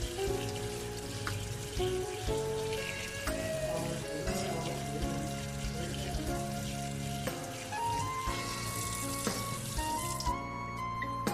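Artificial salmon roe being rinsed under running water to wash off the oil: a steady, close stream from a tap splashing continuously into a sink.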